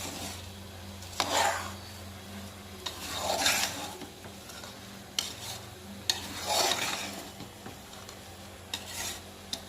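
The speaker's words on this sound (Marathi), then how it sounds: "आता छान तांदूळ यामध्ये मिसळून घेते." Rice is stirred into a cooking pot of peas and potato masala rice: several slow, scraping spoon strokes at uneven intervals over a faint background hum, with no voices.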